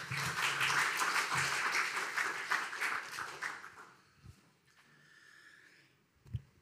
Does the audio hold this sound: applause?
yes